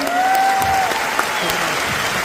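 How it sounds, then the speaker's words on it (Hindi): Audience at a company's fourth anniversary event claps loudly for the managing director, a steady dense round of applause with a faint voice or tone running underneath near the start. "इसके बाद हमारे एमडी सर के लिए भी जोरदार तालियां होनी चाहिए"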